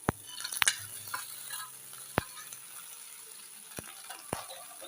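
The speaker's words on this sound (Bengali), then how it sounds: "আগে থেকে চার পাঁচটি আলুকে সেদ্ধ করে খোসা ছাড়িয়ে নিয়েছিলাম এবারে দিয়ে দেবো কড়াইতে" Boiled, peeled potatoes go into refined oil in a wok, giving a steady soft sizzle broken by a few sharp clicks of a utensil against the pan, close and moderately quiet, with no talking.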